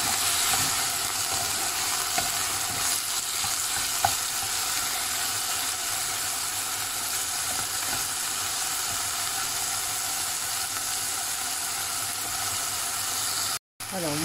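Onions fry with leftover meat in a pot, giving a loud, continuous sizzle and hiss with faint stirring ticks. It cuts off briefly near the end.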